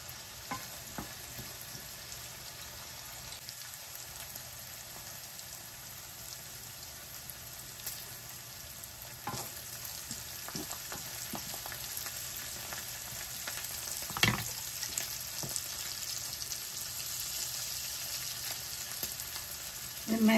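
Curry leaves sizzle in hot oil while Maggi egg noodles fry, giving a steady close crackle with faint stirring scrapes and a few louder pops along the way.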